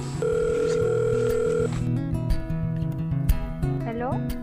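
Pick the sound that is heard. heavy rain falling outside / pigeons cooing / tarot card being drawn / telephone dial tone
telephone dial tone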